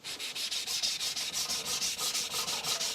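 An Aogami 2 bunka knife is rubbed across a 200 grit whetstone in a steady rhythm of about a dozen quick, close abrasive strokes, alone with no talk.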